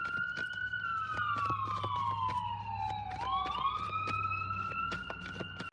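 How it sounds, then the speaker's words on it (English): A wailing emergency siren sounds continuously. Its pitch sweeps slowly downward, then rises again, with faint traffic noise underneath. "I hear the sirens, so somebody is leaving."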